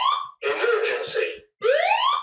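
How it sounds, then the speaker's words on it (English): A building fire alarm siren sounds during a test, with loud, close electronic tones that rise and sweep, cut by a brief silence before the rising wail starts again. "That siren's not so inappropriate, is it, Tom?"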